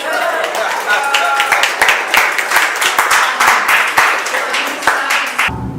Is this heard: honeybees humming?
no